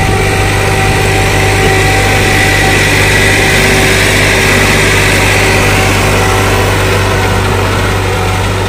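An old tractor engine drones steadily and loudly while pulling a deeply set harrow through a field, a constant mechanical hum with no pause and no voices.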